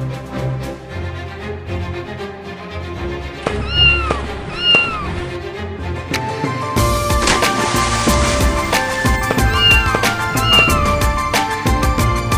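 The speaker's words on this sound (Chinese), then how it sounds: "不就是一只猫吗？" An animated cat meows twice in quick succession and then twice more later, with short rising and falling cries over a bed of music that swells and grows fuller partway through.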